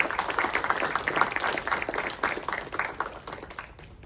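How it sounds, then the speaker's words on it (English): An audience at a college Shark Tank-style entrepreneur event claps for a speaker being introduced, a moderate patter of individual hand claps, fairly close, thinning out toward the end. "Please give him an applause."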